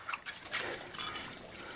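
Soft splashing and trickling of water as a soil-covered, silver-looking object found while metal detecting in Bhaderwah, Jammu and Kashmir is placed in water to wash off the soil, heard faint and close with no talk.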